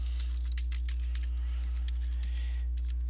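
Light computer keyboard typing as guest information is entered into inn reservation software, a quick irregular patter of soft key clicks over a steady low electrical hum.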